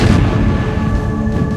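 Cannons fired at dawn from a land bridge on Kodiak Island give a loud, sustained rumbling boom that fills the whole short stretch with dense low thunder.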